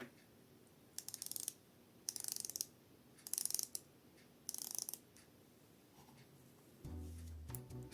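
Phoibos Voyager 3 dive watch bezel turned in four short bursts of rapid ratcheting clicks, close and crisp, separated by pauses, with a brief handling rustle at the end.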